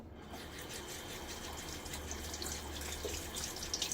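Tap water runs steadily while a safety razor is rinsed during a wet shave, a soft continuous splashing hiss close by with no talking.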